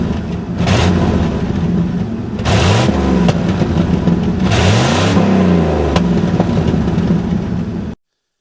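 A Ford F350 pickup truck, stuck and in two-wheel drive, has its engine revved hard several times in loud surging bursts that rise and fall over a steady running drone, with no talking.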